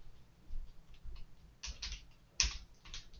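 A few scattered keystrokes on a computer keyboard while code is typed, quiet and close, with two or three sharper clicks and gaps between them.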